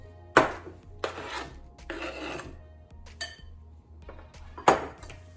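Fruit being chopped for a yogurt fruit salad, a handful of separate knife strikes against a board with softer scraping and rubbing between them, close and alone.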